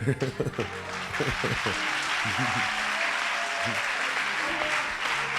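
A church congregation claps and cheers during a sermon, a broad steady wash of applause and crowd noise with voices rising over it at the start before it settles into sustained clapping.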